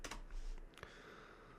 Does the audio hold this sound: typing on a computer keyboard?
yes